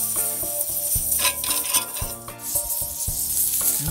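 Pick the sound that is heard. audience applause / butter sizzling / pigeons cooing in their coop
butter sizzling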